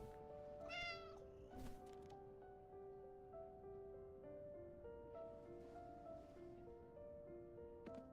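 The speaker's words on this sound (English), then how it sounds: "Kitty cat." A cat meows in the video game Blue Protocol Star Resonance, two short close meows near the start over a soft, steady game music background.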